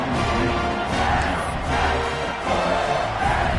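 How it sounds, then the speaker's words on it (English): A college football stadium crowd cheers and roars after a touchdown drive, a dense, sustained wall of voices at steady loudness with no single voice standing out. "this crowd is feeling themselves after that last drive"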